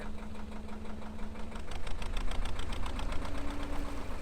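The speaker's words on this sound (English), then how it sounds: "You can give her some revs there if you want" Canal narrowboat engine revved while the boat cruises, a close, rhythmic diesel knocking chug that grows louder and busier as the revs come up.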